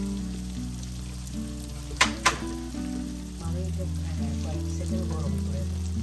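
Onion frying in oil on high heat for fried rice: a continuous close sizzle, broken around the middle by two quick metallic clanks from a utensil, with a brief soft voice in the background.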